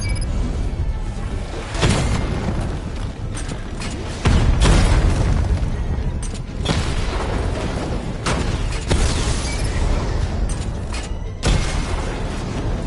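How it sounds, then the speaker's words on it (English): A bomb detonates in a PS4 Batman game: several deep, loud booms burst through a steady clatter of machinery and combat noise, with the heaviest blasts rising sharply out of the mix. "you leave the area, the bomb will detonate"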